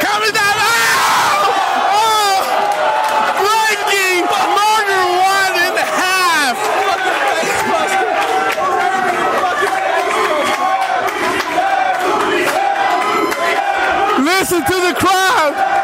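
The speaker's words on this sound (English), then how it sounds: "Listen to the crowd!" Wrestling crowd at a live match roars, whoops and yells in a loud, sustained frenzy, individual shouts and chants rising over the dense din the whole time.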